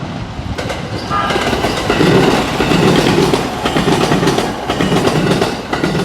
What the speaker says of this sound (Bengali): ট্রেন আসার সময় হয়েছে এখন ট্রেন আসছে